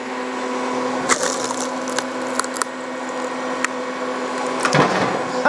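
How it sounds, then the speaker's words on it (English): An electric hydraulic log splitter hums steadily at close range while stringy wood cracks and splinters in sharp, scattered snaps, one louder crunch near the end, with no talking. "All you can really hear is the wood cracking."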